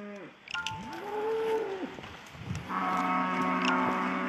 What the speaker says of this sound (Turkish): Bunlar bizim ineklerimiz.